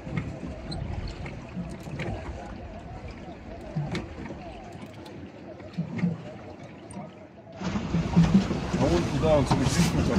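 A pedal catamaran moves across the open sea, with low churning water and wash sounds that grow louder and busier near the end, wind noise throughout.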